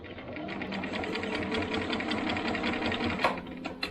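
A sewing machine stitches a quilt seam in a steady, fast mechanical whir with rapid needle ticks, close and continuous, with no talk.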